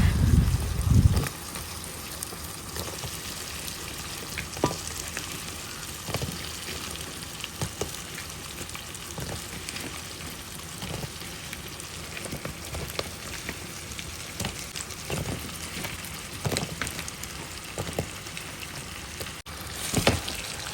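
Sweet pumpkin frying in hot oil, a steady crackling sizzle that runs throughout at moderate level, with a louder thump near the start and scattered small pops.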